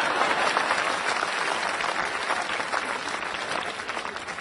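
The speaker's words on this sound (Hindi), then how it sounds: "और अब आपकी तालियां उठेंगी।" A live comedy show audience in a Hindi-speaking hall breaks into dense, sustained applause, a steady roar of many hands clapping that stays loud and even throughout with no speech over it.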